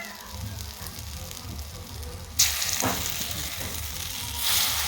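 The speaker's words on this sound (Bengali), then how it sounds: "তেলটা যখন আমাদের গরম হয়ে যাবে ওইখানে একটা একটা করে বড়াগুলো ছেড়ে দিব" Lentil fritters (bora) fry in hot oil in a wok, close by. A soft bubbling hiss jumps to a loud, dense sizzle partway through as more batter drops in, with faint stirring under it.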